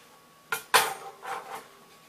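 Metal pots from a Czechoslovakian camping cook kit knock and clatter together, two sharp clanks followed by softer scraping rattles, close and fairly quiet with no talking.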